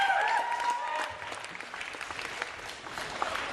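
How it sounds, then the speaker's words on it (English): An audience claps at a live Ignite talk event, a broad steady wash of applause that is strongest at the start and fades slightly, with a brief whistle early on. "so give yourselves a round of applause, please."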